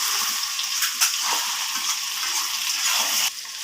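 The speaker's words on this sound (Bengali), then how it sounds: "এবার চিকেনটাকে আবারও একটু নাড়িয়ে চাড়িয়ে দেব।" Chicken curry stirred in a hot pan, its steady bright sizzle and hiss broken by soft scrapes and a few sharper clatters from the spoon, close up with no one talking.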